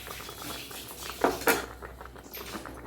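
A spoon stirs a carrot, semai and milk mixture in a pan, making soft patter and scraping with a couple of sharper clinks against the metal midway, close and quiet.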